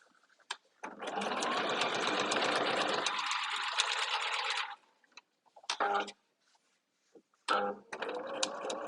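A sewing machine with a worn needle stitches a quarter-inch seam in a steady, close, loud run of about four seconds, then slows and stops, followed by brief short bursts of stitching.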